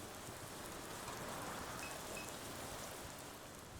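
Heavy rain pours down steadily over a drainage canal in the NORCO video game, a dense, even hiss of downpour that stays constant throughout, heard alone at a low level.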